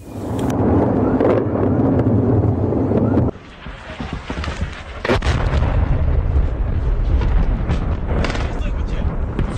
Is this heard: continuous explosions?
yes